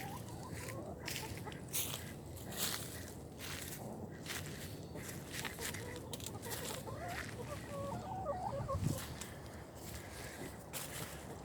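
Chickens clucking around a yard where poultry is kept, irregular soft calls scattered over a steady outdoor background with some rustling and footsteps, no talking.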